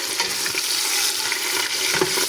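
Onions tossed into a pan with browned chicken pieces fry with a steady, dense sizzle and occasional stirring scrapes, close and continuous throughout without any talk, for a winter-style berkoukes dish.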